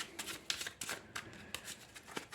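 Playing cards from the Samurai Spirit board game being shuffled by hand, a series of crisp riffling and slapping bursts in an uneven rhythm, close and moderately quiet, with no talking over them.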